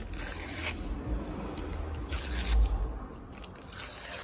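Scissors snipping through paper, with a series of close, crisp cuts and scraping blade sounds in an irregular rhythm.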